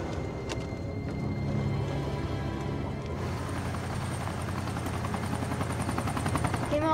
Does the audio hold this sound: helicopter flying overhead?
yes